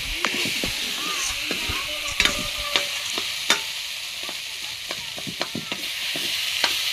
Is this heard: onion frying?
yes